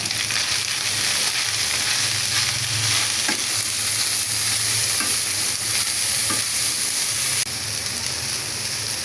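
Stem amaranth greens stir-frying in an oiled pan with fish roe, giving a loud, continuous close sizzle with occasional scrapes and stirs.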